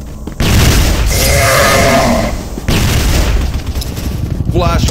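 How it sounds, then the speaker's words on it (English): Flash grenade going off in the shooter game Crossfire: a loud, close blast bursts in suddenly, then dense game noise carries on for several seconds with a second surge partway through. "Flash grenade."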